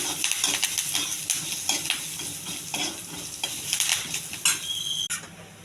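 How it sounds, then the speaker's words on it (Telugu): Curry leaves and lentils crackle and sizzle in hot oil in a pan, a loud busy spluttering with repeated clinks of a spoon stirring against metal. The sound cuts off abruptly near the end. "కొంచెం కరివేపాకు, ఇవన్నీ బాగా వేగాలండి."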